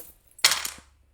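Small divination charms tossed onto a surface land in a single quick metallic clatter that rings briefly and fades, fairly close and alone, with no talk.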